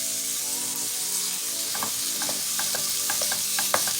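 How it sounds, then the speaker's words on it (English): Ground beef stirred into softened onions and garlic in a pan for chili pot pies, a steady close sizzle broken by clicking scrapes and knocks of the utensil in the second half, no voices. "all we're going to do is add our meat in, and we're going to mix it until it's well combined"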